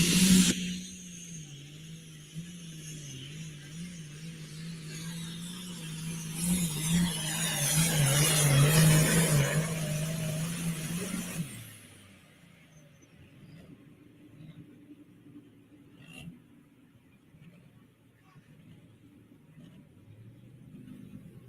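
Modified pulling truck, Ultimate Muscle, roaring under load at a truck and tractor pull, a loud sustained engine drone that builds and then cuts off abruptly, leaving a quieter distant crowd ambience.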